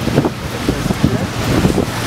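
Wind buffeting a camera microphone outdoors on an Amsterdam street, a steady low rumble with gusty bumps throughout, with faint voices underneath.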